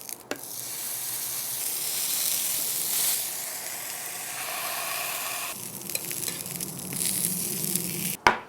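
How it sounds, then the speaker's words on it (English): Smashburger sausage and potatoes searing on a griddle, a strong steady hiss of fat and heat, close and continuous, with a brief louder burst and a faint scrape near the end. "Just trying to get a real nice sear on there, folks."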